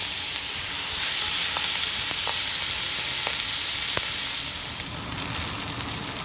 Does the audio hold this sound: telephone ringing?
no